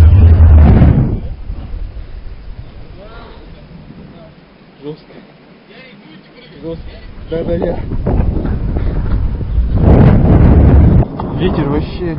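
Strong wind buffeting a microphone high up during an outdoor rope jump in Chelyabinsk, heavy low rumbling gusts that swell and fade, with people talking over it throughout.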